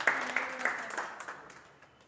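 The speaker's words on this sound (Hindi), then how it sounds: "तालियां मारो, तालियां" Faint clapping from the audience at a trade-union welcome ceremony follows a list of names being read out; a few sharper claps stand out before the sound gradually dies away.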